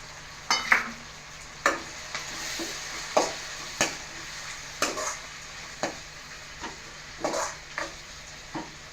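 Prawns sizzle in hot tempering oil under a soft crackle, while a spatula scrapes and taps the pan in a steady, repeated rhythm close by.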